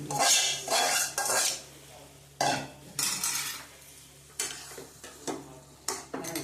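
Vegetables tipped into a metal pan for Gujarati-style upma, then stirred with a spoon: a series of loud clanking, scraping strokes against the pan with faint sizzling between, no voices.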